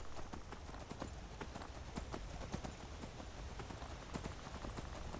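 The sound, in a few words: horse hooves clip-clop from video game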